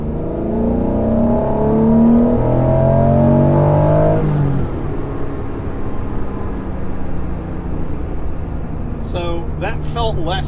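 A high-mileage Honda NSX engine revs up and holds around 6,000 RPM with a rising whine, then drops back to a steady idle hum. A voice briefly speaks near the end.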